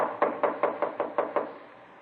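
Seven quick knocks on a hotel room door in a dim third-floor corridor, a muffled, steady, evenly spaced rapping heard fairly close, then silence and no speech.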